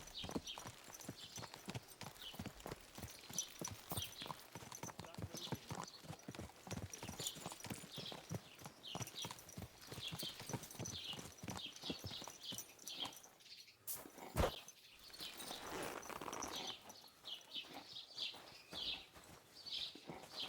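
Horse hooves clip-clop in a steady, continuous rhythm throughout Kingdom Come: Deliverance II, moderately close and dominant, with a brief louder knock near the middle and faint ambient sounds behind.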